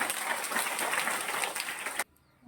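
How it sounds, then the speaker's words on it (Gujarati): An audience at a ceremony honoring new leaders at a primary girls' school applauds the schoolgirls with loud, dense clapping that holds steady for about two seconds, then cuts off abruptly into near silence. "બધી દીકરીઓ માટે એકવાર જોરદાર તાળીઓ"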